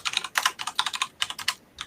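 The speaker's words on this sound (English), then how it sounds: "I can hear someone typing really hard on the keyboard." Someone types hard on a computer keyboard, giving sharp, close clicking keystrokes in quick irregular bursts with brief pauses between them and no talking.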